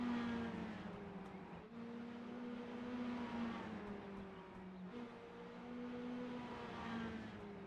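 Mini stock race cars lapping an oval at Southern National Motorsports Park, engines droning loudly with gliding pitch as they pass close by, the roar dipping briefly between passes.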